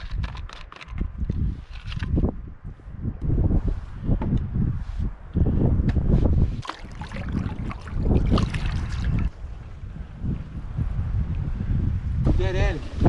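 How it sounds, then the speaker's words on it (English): Strong wind gusts and roars across a forest waterway around a canoe, loud and buffeting close to the microphone, with someone talking over it. "Wind's whipping around, trying to find its place in these little holes."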